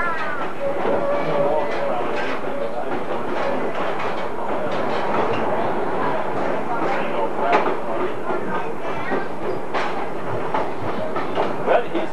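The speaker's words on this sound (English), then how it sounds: "He likes the train ride now, doesn't he?" Steady rumble and rhythmic clatter inside a moving passenger train on a 1992 ride from Palestine to Rusk, continuous and close, with people talking over the noise.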